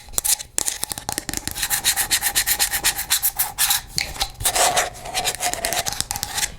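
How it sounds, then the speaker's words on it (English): Fingernails scratch and rub across a small yellow plastic children's cup, in close, dry bursts broken by brief pauses and a few sharp taps. "a simple yellow cup, kind of for children. It's made of plastic."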